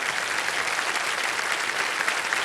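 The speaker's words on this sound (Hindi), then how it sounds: "तालियां बज जाए इनके लिए" Sustained, dense applause from a game show studio audience, loud and even throughout with no pauses.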